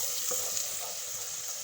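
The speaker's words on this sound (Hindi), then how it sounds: "इसको हम फ्राई करेंगे जब तक इसका कच्चापन ना ख़त्म हो जाए।" Ginger garlic paste frying and being stirred in a pan for a spinach mutton dish, a steady close sizzle with a few soft scrapes of the spoon and no talking.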